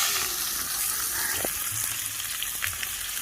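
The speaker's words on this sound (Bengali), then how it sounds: "এবার আমি দেখো লবঙ্গ, দারচিনি, এলাচ দিয়ে দিচ্ছি। এটাকে প্রথমে আমি নেড়ে নেব। পেঁয়াজ কুচি দিয়ে দেবো" Chopped onions frying in hot oil with cloves, cinnamon and cardamom for a Bengali chicken kosha, a steady close sizzle with a few light stirring scrapes and no talk.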